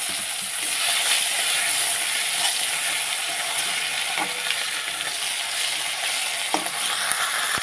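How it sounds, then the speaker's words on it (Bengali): Hilsa fish head frying in oil in a pan, a loud steady sizzle with crackling pops and the occasional scrape of stirring, with no talking. "ইলিশ মাছের মাথাটা কিন্তু আমার এই তেলেই ভাজা হয়ে গেছে।"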